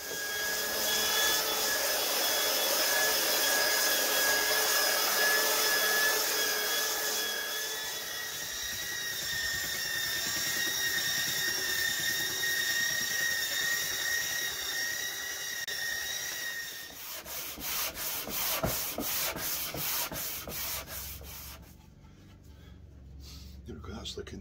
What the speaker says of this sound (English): So next up is the belt sander, I think. I'll give that a bash.